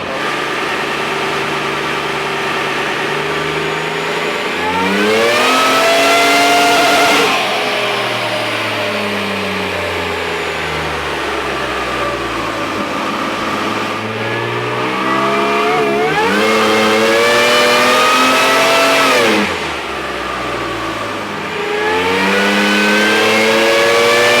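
A supercharged Toyota Hilux roars through repeated dyno power runs, its engine climbing loudly through the revs in long sweeps, dropping back between pulls, close and sustained with no talk.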